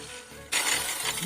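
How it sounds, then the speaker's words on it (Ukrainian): An angle grinder grinding the edges of a K15-5 capacitor gives a short, harsh, hissing burst that starts abruptly after a brief quieter moment, close and fairly loud. "Буду шліфовувати болгаркою."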